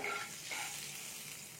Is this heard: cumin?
yes